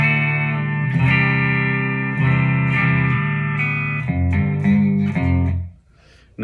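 Electric guitar with distortion runs dry through a modelled '69 Duo Verb amp and black Duo cab, sustained chords and a riff played loud and steady, ending in a brief pause and a final hit.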